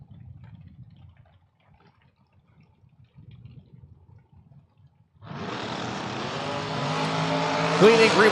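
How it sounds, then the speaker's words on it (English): Dragster engines roar to life at a drag strip during a double-entry second round, a loud, rising engine blast that builds and holds after quiet crowd murmur. "Second round, double enter dragsters."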